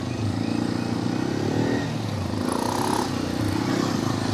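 A Hero Xpulse 210 motorcycle on a weekend ride, its engine droning steadily and close with a throbbing low hum, slight shifts in pitch as it cruises along, no talk over it.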